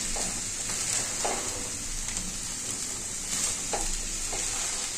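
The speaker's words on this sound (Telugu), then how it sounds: "ఉడకబెట్టుకున్న శనగలు కలుపుతానండి." Boiled chickpeas are stirred in a frying pan over a low flame. A steady close sizzle runs throughout, with a few soft scrapes and clinks of the spoon against the pan.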